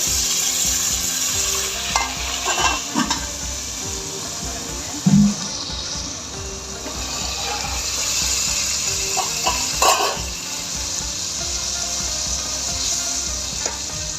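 Chicken nihari masala frying in a pan as water is poured in and stirred: steady close sizzling with scraping stirs and a few clanks of utensil on pot, no talk.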